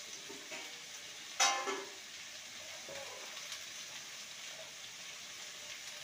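Okra frying in a pan over low to medium heat: a soft continuous sizzle with one brief louder spatter or stir near the start, otherwise steady and quiet.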